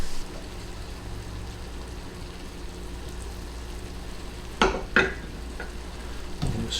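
Parsley and lemon juice stirred into cooked shrimp for shrimp scampi, a low steady pan hum with a few soft scraping strokes of a spoon near the end.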